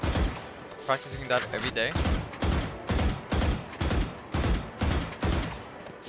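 Burst gunfire in the shooter game Valorant: short bursts of two to three shots repeat roughly every second, loud and close, beneath someone talking throughout.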